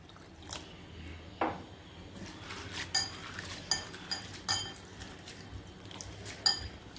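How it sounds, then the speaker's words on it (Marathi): Flattened rice (poha) is rinsed in water in a bowl, with quiet sloshing, soft drips and scattered light clinks of a utensil against the dish. "आता आपल्याला पोहे धुवून घ्यायचे आहेत."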